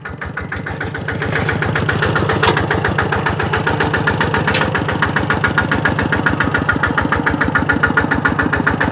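A diesel tractor engine idles close by with a steady, rapid low chugging that grows slightly louder after a moment and then holds constant.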